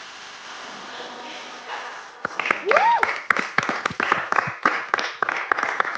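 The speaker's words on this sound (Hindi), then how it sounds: "आई नो थोड़ी दर्द वाली तालियां हैं" On a reality game show stage, an audience claps for the winner, scattered uneven applause that swells after a quiet start, with voices and a whoop mixed in.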